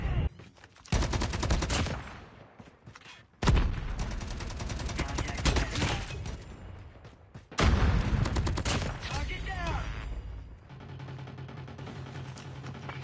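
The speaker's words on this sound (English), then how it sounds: "We're hearing this dude shoot from down low." Bursts of video game gunfire from an enemy shooting from below: three loud rapid volleys with broadband cracks, each fading out, followed by quieter background game sound.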